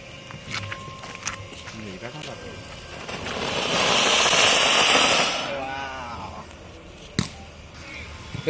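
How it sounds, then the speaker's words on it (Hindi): A chakri ground spinner firecracker, set off during Diwali fireworks testing, builds into a loud, rushing hiss for several seconds and then fades, with scattered pops and crackles around it and voices in the background. "ये चक्री बाण चलन देखिए"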